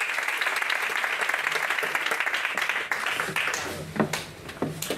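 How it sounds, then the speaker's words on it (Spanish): Audience applause at a certificate-of-excellence ceremony for local shops in San Pedro Alcántara, a dense, steady clapping crowd that thins toward the end as individual claps stand out. "yo os pido a ustedes mismos un fuerte aplauso"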